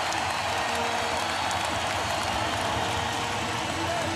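Roaring arena crowd at a Pacers vs Lakers NBA game 5 in Los Angeles, a dense continuous wall of cheering and noise with broadcast commentary mixed underneath.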